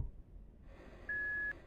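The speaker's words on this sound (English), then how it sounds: "it beeps in reverse" A single steady electronic beep of about half a second rises out of quiet room tone in a horror game tutorial; it sounds like a vehicle's reversing alarm.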